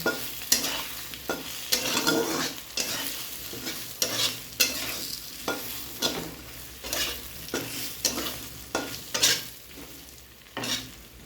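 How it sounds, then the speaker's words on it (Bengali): Potatoes sautéing in a pan with ground cumin and coriander, heard as a close, steady sizzle broken by repeated rhythmic scrapes of a spatula stirring the pieces. "গুঁড়ো মশলাটা, জিরের গুঁড়ো, ধনের গুঁড়ো দিয়ে একটু মশলাটার সঙ্গে আলুটা একটু আমি কষিয়ে নেব"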